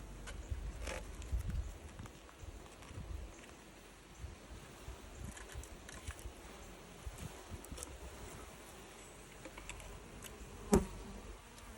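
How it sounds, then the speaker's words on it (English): Honey bees buzz faintly around a newly installed package hive, a thin continuous hum with scattered close passes and soft knocks, one sharper bump near the end, no voices. "all of the bees are going to try to come out with it"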